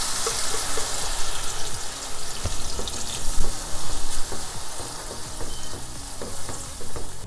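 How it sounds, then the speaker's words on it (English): Blended pepper and onion mixture frying in hot oil, a close, dense sizzle with spluttering pops and periodic scraping stirs, rising and falling in loudness. "I'm gonna be frying my pepper and onion mixture"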